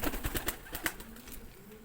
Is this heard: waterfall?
no